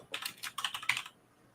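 Typing on a computer keyboard while searching online for fragrances, heard as a quick, close burst of about a dozen light key clicks that stops abruptly, with no voices.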